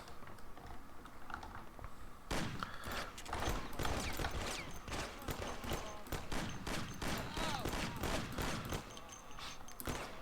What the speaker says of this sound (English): we're about to get into the first actual big shootout of the game